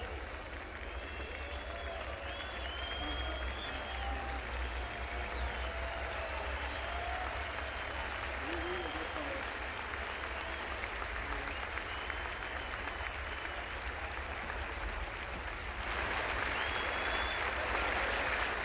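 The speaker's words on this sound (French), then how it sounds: "Cependant qu'une partie du public siffle, l'autre applaudit." A large crowd applauds at the 1969 Roland Garros tennis trophy ceremony, with some spectators whistling, producing a long, dense roar of clapping with whistles heard over it that swells louder near the end.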